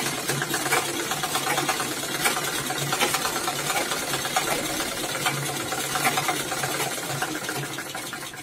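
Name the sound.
sewing machine stitching side seam of gents pant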